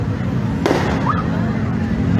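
New Year fireworks going off above the street at Margonda Raya in Depok: one sharp burst cuts through a dense, steady wash of crowd and traffic noise, with a faint whistling rise just after.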